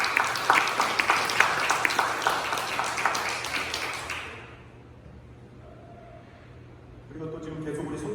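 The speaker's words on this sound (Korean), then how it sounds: "우리 박수로 한번 또 축하하겠습니다" A church congregation at a Sunday service claps in celebration, a brisk patter of many hands that fades out after a few seconds, followed by quiet and then a voice speaking.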